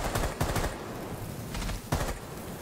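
Gunfire in Rainbow Six Siege during a Crimson Heist match, with bursts of rapid shots around the start and again near the end, moderately loud against steady background game noise.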